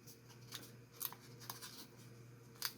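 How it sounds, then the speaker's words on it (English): Scissors snip through a paper Mobius strip along its center line, giving a few crisp cuts spaced out over low room hum, close and fairly quiet. "I'm going to take my scissors, and I'm going to cut"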